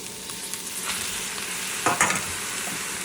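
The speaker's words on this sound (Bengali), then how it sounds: "একটু নাড়াচাড়া করে দিয়ে দেবো ভেজিটেবল।" Mixed vegetables stir-fry in a hot pan: a dense, close hiss of frying with a few spatula scrapes, including a louder burst of stirring partway through.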